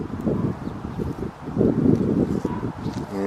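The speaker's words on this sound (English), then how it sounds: "It's pretty windy" Gusty wind buffets the microphone in low, rumbling bursts that rise and fall throughout in a vegetable garden, with faint rustling behind.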